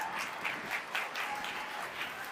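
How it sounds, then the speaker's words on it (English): Conference audience claps to welcome guests onto the stage at a business event, a brief, moderately distant round of applause with a few louder bursts. "Help me give a very warm welcome and round of applause to our guests."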